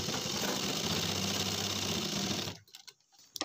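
Sewing machine double-stitching a pair of jeans, a loud rapid mechanical whir with a steady rhythmic knock running continuously, then stopping abruptly, followed by a few faint clicks and handling sounds.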